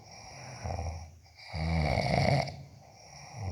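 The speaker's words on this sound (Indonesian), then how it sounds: "cara menghilangin teman ngorok itu" Heavy snoring from a sleeping friend, two long rasping breaths in a row, close and fairly loud with no talk over it.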